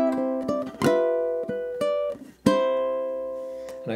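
Ragtime ukulele playing a measure of Scott Joplin's The Entertainer, plucked notes and chords ringing out in a syncopated run with a pause before a final sustained chord, solo and close.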